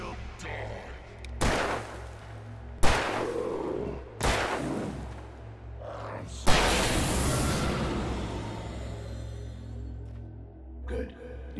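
Loud gunshots ring out in the Alan Wake Remastered video game, four or five heavy blasts spaced a second or two apart with rumbling echoes, the longest tail trailing off near the end.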